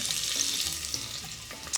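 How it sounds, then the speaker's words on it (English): Onion sizzles steadily in hot oil in a pan with a bright, continuous crackle and a few sharper pops, close up and without voices. "Oh, I love that sizzling sound."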